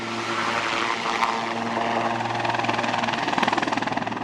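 A Sea Sprite military helicopter drones with a steady turbine whine and rumble, its rotor chop growing more pronounced and rhythmic toward the end, with no talking.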